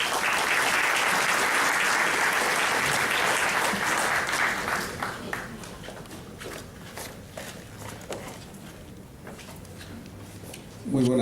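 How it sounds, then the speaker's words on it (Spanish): Audience applause at the closing of a formal congressional conference, a dense loud burst of many hands that fades over several seconds into a scattered patter and near quiet, with a brief noise at the end. "Vamos a recibirlo con fuertes aplausos."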